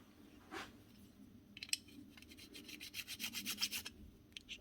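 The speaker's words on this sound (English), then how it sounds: "Also just give us a quick file." A hand file rasps across a demolition hammer part to remove a small burr, a few quiet, close strokes with a rapid run of short scraping passes toward the end, no talking.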